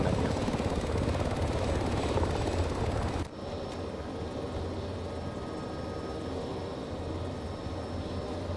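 An MH-60 helicopter in a video game keeps its engine and rotors running in a loud steady roar that drops abruptly partway through to a quieter, continuing whine and hum.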